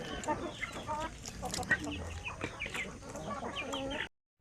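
RTL Basilan native chickens cluck and chatter close by, with overlapping calls in a busy, continuous flock babble.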